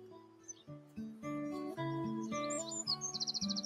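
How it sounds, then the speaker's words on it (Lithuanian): Birds along a quiet nature trail in the Dieveniškės countryside give a run of clear, tuneful chirps and calls, close and fairly soft, ending in a quick burst of rapid high notes. "Nu rimtai čia paukščiai iš po tako išlenda."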